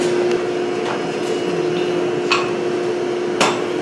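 A hammer forges a metal leaf blank, a few sharp metallic strikes at an uneven pace over a steady hum, with no talk.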